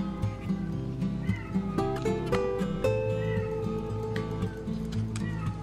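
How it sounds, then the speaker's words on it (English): A cat meows and yowls repeatedly in drawn-out, wavering cries, fairly loud and near, over a steady background hum. "This cat is at the front door."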